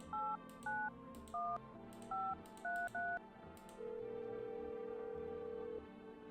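Telephone keypad tones from the game No, I'm Not A Human: six short two-tone beeps in an uneven sequence, followed by one longer steady tone, faint and heard alone.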